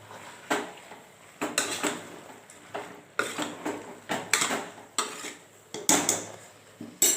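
A spoon mixes ingredients in a metal cooking pot while a home lunch is prepared. A steady run of about fourteen close clanks and scrapes against the pot sounds alone, with no talking.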